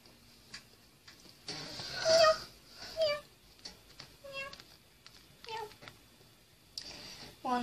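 A pet cat meows several times indoors, short rising cries spaced out over a few seconds, mixed with quiet household sounds and a voice nearby.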